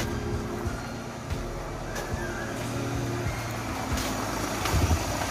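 A car engine idles steadily at moderate level during a battery and radiator check on a car with a faulty battery indicator, a continuous low rumble with a few faint clicks and no talk.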